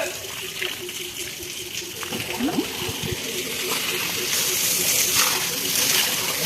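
Water sloshing and splashing while a buffalo is washed, an uneven spray and splatter that grows louder toward the end, with voices talking over it.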